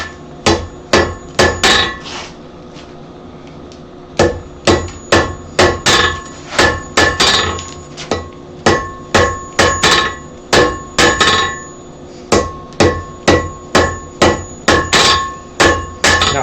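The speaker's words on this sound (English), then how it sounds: "Now I'm not hammering hard." Blacksmith hammering hot metal at a forge, a long series of sharp ringing strikes in steady bursts with brief pauses between groups, loud and close with no talking.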